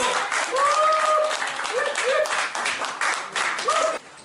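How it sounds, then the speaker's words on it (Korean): Audience applause at a high school alumni association's annual general meeting and year-end gathering, welcoming the association president; steady clapping fills the clip while voices call out and chatter over it, ending abruptly. "박수로 맞이해주십시오"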